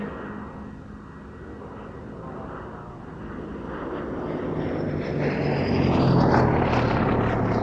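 A Gloster Gladiator biplane flies at the Duxford Battle of Britain Airshow, its propeller engine droning as it approaches and grows louder, with a sweeping pitch shift as it passes, under a narrator's voice.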